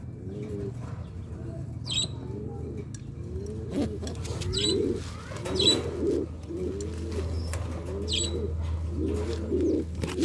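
Racing pigeons from a breeder's loft coo repeatedly in low rolling phrases, with occasional wing flaps and faint chirps close by over a steady background hum.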